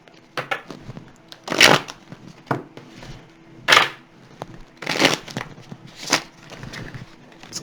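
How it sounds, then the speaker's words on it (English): Tarot cards are shuffled in a string of crisp riffles and papery flutters, irregular bursts with soft rustling and handling noises between them, close by. "These cards just don't want to shuffle for me today."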